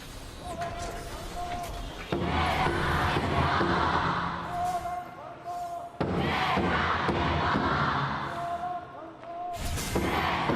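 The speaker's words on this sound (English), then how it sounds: "Let's hear the audience cheer." A large esports arena crowd at the 2025 KPL Summer Season Playoffs roars as Talent Gaming and Weibo Gaming take the stage, a loud, sustained wall of cheering that swells in bursts and briefly dips before rising again.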